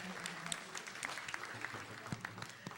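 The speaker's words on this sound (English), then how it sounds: "Give him a round of applause." Audience applause at a panel discussion, a quiet, distant spatter of many hands clapping with occasional sharper claps, steady for a few seconds and faint overall.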